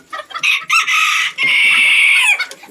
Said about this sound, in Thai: ไก่เสียงดัง ก็จะหนวกหูประมาณนั้นครับ